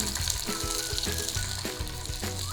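Tomatoes sizzle in a hot pan for shrimp bucatini pasta, a steady close frying crackle with light stirring clatter.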